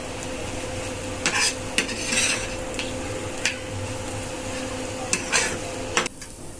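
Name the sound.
stirring egg into sweet potato leaves in a pan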